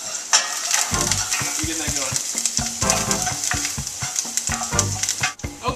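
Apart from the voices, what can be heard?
wooden spoon stirring sizzling herbs in a pan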